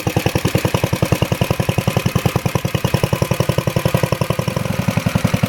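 An old cast iron Briggs & Stratton engine runs on a Cooper Klipper ACA-20 reel mower, a steady rapid single-cylinder putter with clattery mechanical rhythm, close and loud throughout with no talking.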